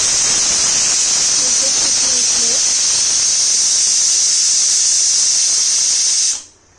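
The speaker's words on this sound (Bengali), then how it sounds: "একটা সিটি উঠে গেল, এরপরে আরও 2টো সিটি উঠলেই আমি গ্যাসটা অফ করে দেব।" A pressure cooker on a gas stove vents a loud, steady steam hiss through its whistle, continuous and close for several seconds before cutting off abruptly, with a faint voice briefly underneath.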